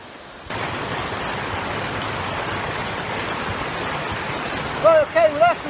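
High river water flowing over a weir in the Tamar Valley, a constant loud rushing roar that starts abruptly. A few short whistling tones are heard near the end.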